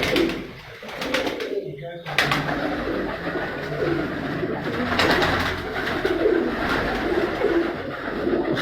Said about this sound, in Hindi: उस्ताद इब्रार अहमद ख़ान बता रहे थे कि उनके पास तमाम कबूतर जो हैं उनके वो देसी कबूतर जो उनके पिपला की जो ब्रीड है तमाम मौजूद